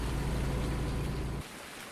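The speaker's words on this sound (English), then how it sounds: "Back home by the pool in the pouring rain." Heavy pouring rain falls by a backyard pool on a warm summer night, a dense steady hiss that cuts off sharply near the end and leaves a quieter patter.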